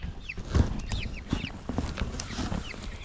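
Baby chicks peep in quick, high, overlapping chirps, close and fairly loud, over low rustling and thumps.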